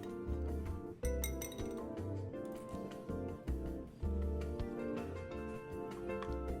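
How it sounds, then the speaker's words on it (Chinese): Rice flour and water are stirred into a batter in a bowl, with a utensil tapping and clinking against the bowl in a quick, repeated rhythm, close and fairly quiet. "粘米粉30克，加入45克清水拌匀"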